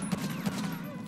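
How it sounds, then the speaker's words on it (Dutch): Gunfire in the GTA 5 video game during a police patrol mod scenario, a burst of several rapid muffled shots at moderate distance, mixed with faint game ambience. "Er zijn schoten gelost, OC."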